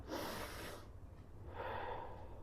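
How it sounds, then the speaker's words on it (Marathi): During a yoga breathing exercise, a deep, audible inhalation is followed by a second breath of air, close to the microphone, soft and breathy over a quiet room. "इथे आपण श्वास घेतला"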